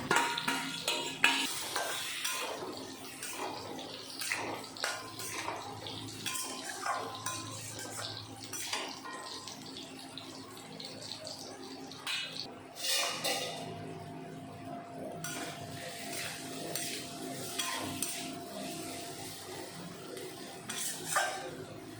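Fried potato pieces are stirred into sizzling masala for a Bengali fish curry, with a spoon scraping the pan repeatedly over a steady frying hiss, close and fairly busy throughout, with no talking.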